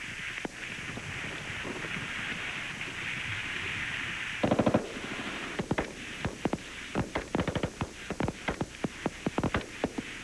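Marine squads fire weapons at targets on an outdoor range, a steady drone under repeated close, sharp gunshots that start in a quick burst and continue as spaced shots and short rapid runs.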